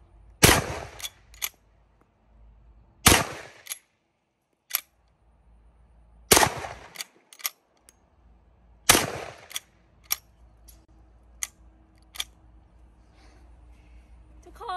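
Four sharp, loud gunshots spaced a few seconds apart during an armor versus refrigerator shooting test, each followed by a brief ring-out, with a few smaller metallic clicks and impacts in between.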